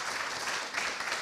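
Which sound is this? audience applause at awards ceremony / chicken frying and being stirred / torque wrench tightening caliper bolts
audience applause at awards ceremony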